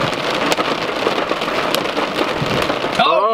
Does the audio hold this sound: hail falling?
yes